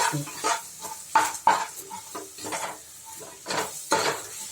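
Turmeric powder and spices being sautéed in a pan while cooking vathakuzhambu rice in a pressure cooker, with repeated scraping stir strokes and light clinks of a utensil against the pan over a soft sizzle.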